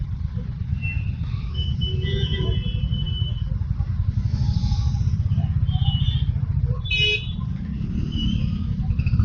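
Traffic is jammed at a railway level crossing near Farakka, with a constant close engine rumble and scattered short horn toots from nearby vehicles.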